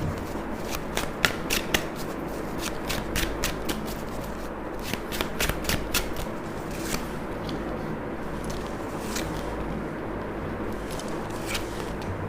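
Tarot cards being shuffled by hand during a reading, a steady series of crisp riffling flicks and slaps, close and fairly quiet, continuing for several seconds.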